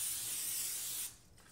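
Cooking spray hissing onto an 8x8 baking pan for a casserole, one steady, fairly loud close spray lasting about a second before it cuts off.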